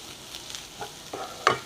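Green chilies sautéing with onion, ginger and garlic in a pan, a faint low sizzle with a few soft stirring clicks and scrapes, quiet and close, no speech.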